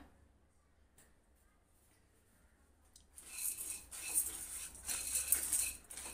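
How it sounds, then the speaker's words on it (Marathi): Chana dal dry-roasting in a hot kadhai: after a few near-silent seconds, a steady close rattling and scraping of the lentils against the pan starts up and carries on to the end. "चणा डाळ आपण भाजून घेऊया।"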